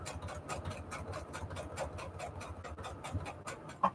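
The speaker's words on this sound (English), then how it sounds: "Just sew together this little collage for a half." A sewing machine stitches paper scraps together into a collage, giving a faint, steady pulsing hum of needle strokes close by with a soft click near the end.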